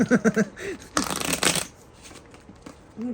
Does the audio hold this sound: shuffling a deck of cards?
yes